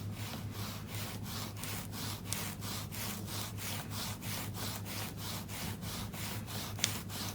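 Inked sponge brayer rolled back and forth across a card, giving a steady rhythmic rasping swish about three strokes per second, close and fairly quiet, with no voices.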